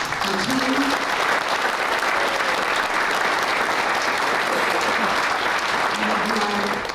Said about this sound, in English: Another round of applause to Rena and her team.